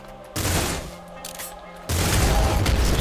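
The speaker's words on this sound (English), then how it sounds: "Splinter gun." Splinter gun firing in the Nuclear Throne video game, two bursts of rapid crackling gunfire separated by a quieter gap, loud and close.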